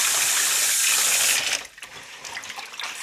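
Water rushes loudly over rice being rinsed to wash off excess starch for sushi, a steady gush for about a second and a half before dropping to softer splashing and trickling.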